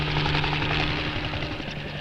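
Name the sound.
Navy helicopter flying over Antarctic sea ice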